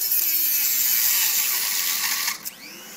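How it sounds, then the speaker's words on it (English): A Dremel rotary tool cuts into a SATA hard drive with a high, steady whine that bites harder and then winds down abruptly near the end. "So let's get back to the Dremel. So here we go. I'm gonna try and get in here through the top"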